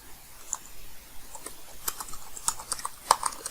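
Soft, quick typing on a computer keyboard, with irregular light key clicks tapping away close and quietly, no voices.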